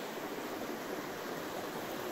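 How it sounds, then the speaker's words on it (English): A remote creek reached by kayak flows with a soft, steady broadband rush, faint and even throughout with no other sounds. "we've come across this creek"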